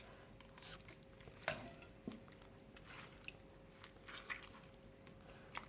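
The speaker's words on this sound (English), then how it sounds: "to squeeze down on the sieve so we can get all the water out" Water squeezed from recycled paper pulp through a sieve, a soft continuous wet trickle with occasional squishy drips and small clicks, quiet and close.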